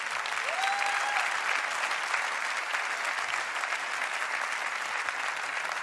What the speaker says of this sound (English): So a round of applause for Mr. Espeleta as well